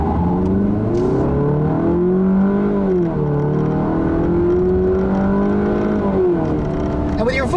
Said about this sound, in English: with your foot to the floor, this 200 with the 4-cylinder will get to 60 in about 9 seconds